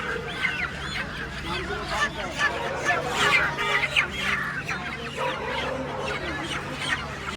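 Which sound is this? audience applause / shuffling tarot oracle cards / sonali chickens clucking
sonali chickens clucking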